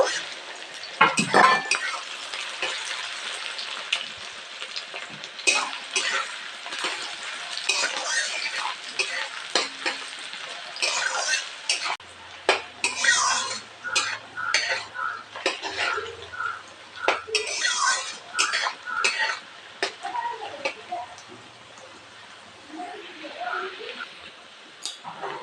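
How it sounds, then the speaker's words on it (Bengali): Onion and green chili fry in a pan, stirred with a utensil that clatters and scrapes against the metal in busy bursts over a light sizzle, close by, with a voice talking over part of it. "কাঁচা লঙ্কা তো পেঁয়াজ আর কাঁচা লঙ্কাটাকে ভালো করে ভেজে নেব"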